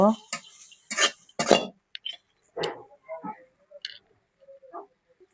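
Chopped onion and crushed garlic are stirred in a pan: sharp metallic scrapes and clinks of a spoon against the pan, loud at first then sparser and softer, with quiet gaps between strokes.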